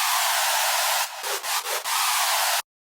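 A harsh, noisy synth screech holds steady, briefly stuttering with a few quick chopped gaps before cutting off abruptly.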